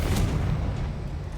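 Confringo fire spell blast in Hogwarts Legacy, a short booming burst like a deep explosion, loud and close, decaying quickly.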